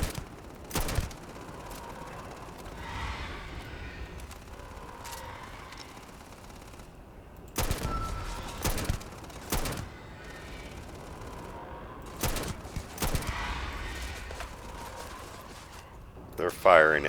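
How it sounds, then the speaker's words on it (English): Video game gunfire aimed at the player: several sharp broadband bursts of shots spaced through the stretch, loud against a low droning background, with voices talking between volleys. "They're firing at us."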